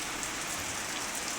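Heavy rain pouring outside a room in Bangalore, a dense, continuous wash of drops on surfaces, steady and fairly close, with no voices.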